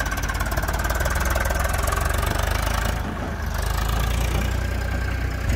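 A motorized bhotbhoti cart beside the Punarbhaba river in Dinajpur runs with a loud, steady, close engine chug and a rhythmic knocking idle that continues throughout, with no voices.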